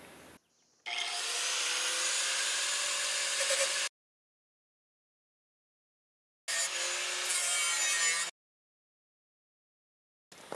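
Two bursts of harsh, grinding cutting as grooves are cut into metal for ATV footpegs, one about three seconds long and a shorter one later, separated by silence, loud and close.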